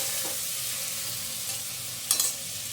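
Small onions fry in a pan with a steady, close sizzle, plus a brief clatter near the end, no voices.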